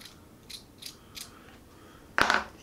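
A screwdriver tool clicks and ratchets while screws are taken out of a 2013 Apple iMac, a few faint light clicks, then one sharp louder metallic clack near the end.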